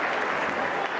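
Football crowd at a Charlton versus Wigan Athletic match giving warm applause, a brief, steady wash of clapping from a distant stand with a commentator's voice faintly mixed in.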